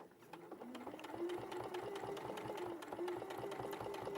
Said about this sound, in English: So you're going to sew very, very close there.